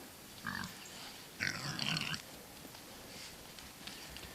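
Young boars grunt in an outdoor paddock, two or three short low grunts heard at a moderate distance against steady wind-like background noise.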